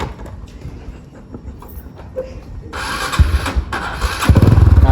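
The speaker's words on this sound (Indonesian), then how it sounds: "Nah, ini motor 4 langkah." A four-stroke motorcycle engine starts up about midway and then runs with a steady, close, loud chugging that grows stronger toward the end, following a stretch of quieter background rumble.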